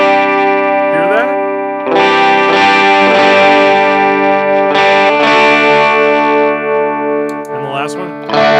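An electric guitar runs through a Universal Audio UA Lion pedal emulating a Marshall Super Lead amp, giving a loud, driven tone with sustained ringing chords, a bend and a few re-struck notes, played close with no talking.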